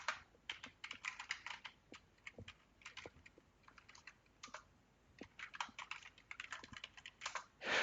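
A computer keyboard is typed on at close range in quick, irregular clusters of soft clicks with brief pauses, quiet overall and without talk.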